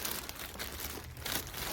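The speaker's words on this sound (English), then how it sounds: "They're in this plastic bag." Thin plastic bag holding wet, budding David Austin rose plants crinkles and rustles steadily as they are pulled out, close and fairly quiet, with no talking.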